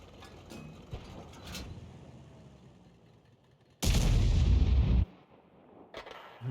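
Artillery and gunfire pounding woods in a war video game, scattered distant shots followed by one loud, sustained roaring blast lasting about a second, then fainter reports.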